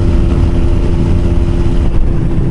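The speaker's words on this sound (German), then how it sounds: "Mal ausprobieren, was die CBR schafft." Honda CBR125R motorcycle engine drones steadily at speed on a road ride, a continuous close hum with wind noise and no talking.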